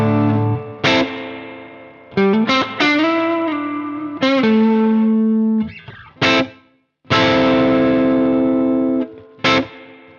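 An electric guitar plays sustained chords and single notes through a Brunetti Singleman 50-watt amp head, with lush reverb tails lingering after each strum and brief pauses between phrases.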